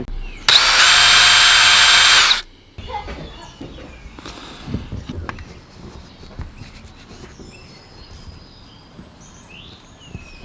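A power drill drives screws into a van roof rack while fitting a solar panel mount, one loud sustained whir of about two seconds, followed by quieter handling knocks and scraping with birdsong in the background.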